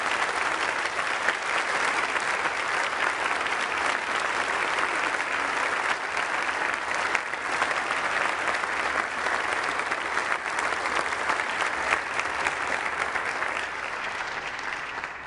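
Sustained applause from a large audience, loud and even, clapping continuously for about fifteen seconds without pause.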